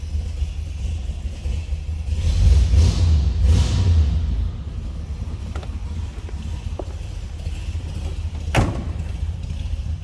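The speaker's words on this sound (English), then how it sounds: "Sounds like a mild cam, a little bit of a low idle." A steady low engine rumble from a 1965 Chevrolet Impala convertible idling in neutral with a mild cam, loping slightly, with a swell of wind-like noise midway and a sharp knock near the end; no voices.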